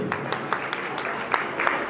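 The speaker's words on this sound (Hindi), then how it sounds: "एक बार ताली बजाइए" An audience at a Jain religious gathering claps in a soft, rhythmic run of beats that sits at a moderate distance.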